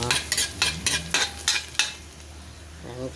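Garlic sizzling and being stirred in a hot pan, a series of sharp frying bursts with spoon scrapes roughly every third of a second, close and fairly loud, fading to a quieter simmer near the end.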